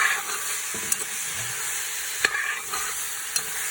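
Duck pieces for curry sizzle and fry steadily in a pot with a constant hiss, broken by a few sharp pops and a stirring scrape.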